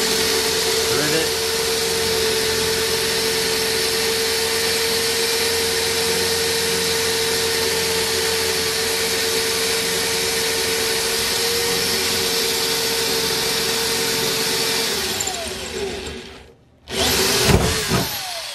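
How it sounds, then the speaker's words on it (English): A power drill with a 3/16 bit drills straight into the middle of a rivet on a school bus conversion. The whine is loud and steady for about fifteen seconds, then briefly stops and restarts. "she's using a 3/16, like I said, and we're just drilling straight into the middle"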